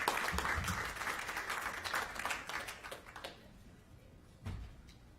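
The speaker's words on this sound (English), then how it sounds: "So round of applause for all of these students and their teacher." Applause at a school board recognition meeting for students and their teacher, a moderate burst of clapping that fades out, with a brief extra sound near the end.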